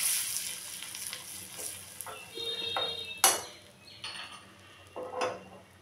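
Kashmiri chili powder hits hot oil for a dal tempering, a steady close hiss with louder sizzling bursts and occasional clinks of a utensil against the pan.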